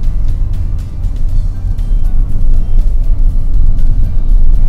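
Nissan Kicks e-Power driving in EV mode at about 20 km/h on city roads, heard from inside the cabin as a steady low rumble of road and tire noise with faint ticking bumps.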